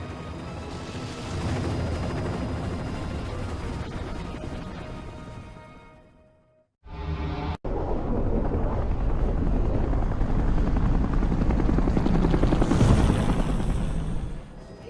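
A helicopter in the video game Bayonetta roars with a loud, steady rotor drone that cuts out abruptly, then returns after a sharp break and holds at full strength, with game effects mixed in.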